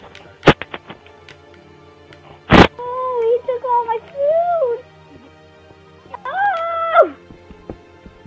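Wolf whimpering in Minecraft, with two sharp hits followed by drawn-out whining tones and a later high whimper, clear and close against a quiet background.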